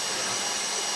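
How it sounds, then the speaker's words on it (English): A steady high whine of a power drill boring into a vault deposit box during a bank heist in GTA 5 Online, continuous and unbroken with no talk over it. "If the drill burns out, this whole thing will take too long"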